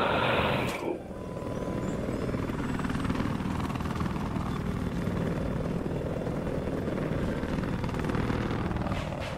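A helicopter drones steadily with a deep rotor roar that holds loud and constant throughout, after a brief noisy burst at the start.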